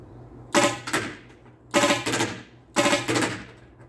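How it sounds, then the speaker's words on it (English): An HPA-powered airsoft M2 machine gun fires three short bursts of rapid rattling shots, each burst sharp and close, separated by brief pauses. "I'm dialing in the Airsoft M2 with an HPA tank finally."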